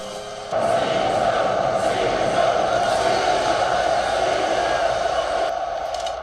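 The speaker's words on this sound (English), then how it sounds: "Imagine that many people there cheering you on as you die." Dense, steady roar of a large arena crowd in the film Gladiator, rising sharply after a brief quieter start and holding loud and continuous throughout, with scattered shouts blended into the mass of cheering voices.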